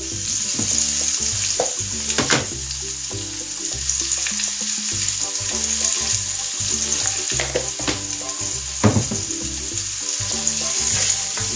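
Red bell pepper sizzles in a frying pan for ratatouille, a loud, continuous crackle with scattered pops and a few scraping stirs, close up and with no talk.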